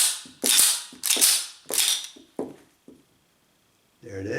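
A Smith & Wesson handgun slide is racked repeatedly to eject chambered rounds, giving about five sharp, close metallic clacks in an uneven rhythm, then a short pause and a final mechanical rattle.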